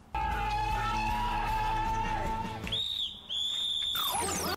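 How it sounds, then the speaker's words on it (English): A referee-style whistle blown to break up a fight in a drama series, sounding as a long steady shrill tone followed by a few sharper, higher blasts, loud and close, with no talk over it. "Just a whistle."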